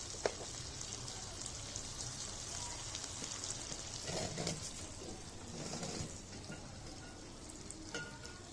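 Stuffed bitter gourd deep frying in hot oil, a steady dense sizzle and crackle running throughout with small stirring shifts, close and fairly loud, no voices.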